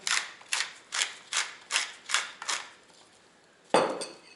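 A spoon mixes salmon tartare with lemon, cucumber, soy sauce and pepper in a bowl, tapping out about seven evenly spaced clinks, then a pause and one sharper, louder knock.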